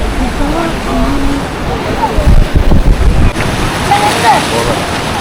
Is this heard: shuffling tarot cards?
no